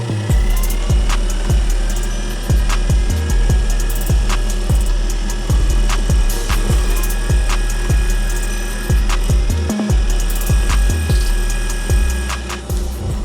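A high-speed steel cutter mills an aluminum engine block ring on a machine, producing a loud, continuous grinding whine with rapid rhythmic chatter throughout.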